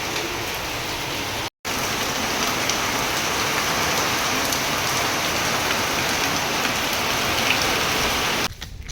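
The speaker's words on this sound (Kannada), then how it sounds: "ಮಳೆ ನೋಡಿದ್ರೆ ಸಿಕ್ಕಾಪಟ್ಟೆ ಬರಹತ್ತತ್ರಿ" Heavy rain pours steadily onto surfaces during a downpour at a weekly village market, a dense continuous hiss that drops out for a split second near the start and thins slightly at the very end.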